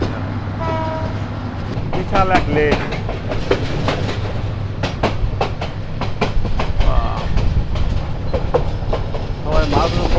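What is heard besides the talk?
Paharika Express train running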